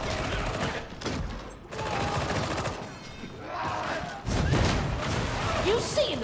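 Dense bursts of gunfire fill a fight in the video game Warhammer 40,000: Darktide, sustained rattling volleys and thumps running almost continuously, with voices shouting over the shooting.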